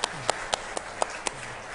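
Members of a church congregation give a few slow, evenly spaced claps, about seven in all, soft and somewhat distant over a quiet room murmur.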